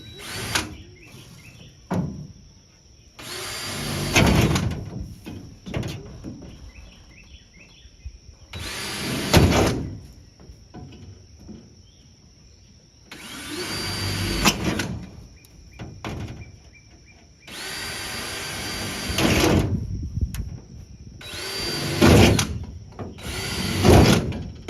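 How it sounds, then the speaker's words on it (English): A power drill bores out pieces of a car body deck, whining in several loud, close bursts of a few seconds each, separated by quieter pauses with light handling clatter. "So drilling that out"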